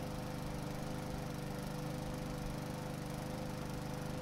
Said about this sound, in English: let's mow her down with the lawnmower